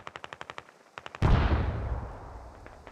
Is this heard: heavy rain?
no